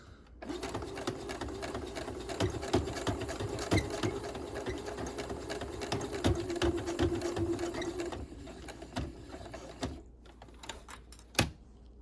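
Sewing machine stitching a fabric face mask, a steady, fairly close mechanical whir with rapid needle clatter running continuously for about ten seconds before slowing and stopping with a few last clicks.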